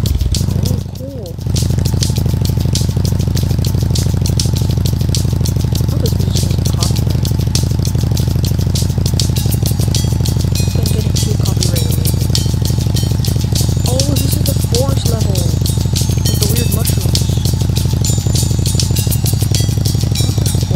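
A moped engine in a Roblox video game, heard as a loud, continuous buzzing, rattling motor drone that runs almost the whole time under a person talking.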